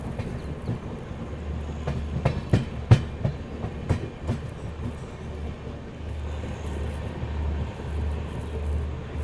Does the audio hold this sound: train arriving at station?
yes